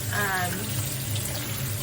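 Running tap water splashes over beans being rinsed for chili soup, a steady hiss in a sink with a brief clatter or squeak near the start, no talk.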